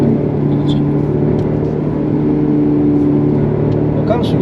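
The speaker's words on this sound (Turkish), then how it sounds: "Gerçek motor sesi." A Mercedes C200 4Matic engine drones at a steady, even level while driving, heard from inside the car as a constant low hum and road rumble.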